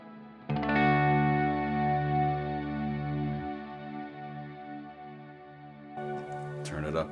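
An electric guitar runs through a Cloudburst reverb pedal, a sustained distorted chord ringing out with a long washy tail, followed by a few fresh strums near the end.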